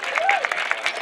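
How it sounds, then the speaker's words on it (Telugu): Audience clapping at a bodybuilding prize ceremony in Rayachoti, Kadapa, a brief dense burst of applause under an announcer's amplified voice. "చప్పట్లు కొట్టాలండి"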